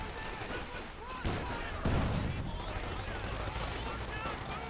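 Sniper and bazooka fire in the wartime strategy game Company of Heroes 2, with repeated gunshots and heavier blasts layered over constant battle noise, under a game commentator's talk.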